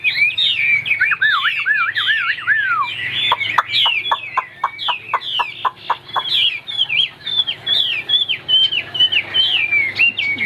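Chinese hwamei, a white-browed laughingthrush, sings loudly and close up in a long, varied stream of rich whistled phrases, with a run of rapid, evenly spaced sharp notes in the middle.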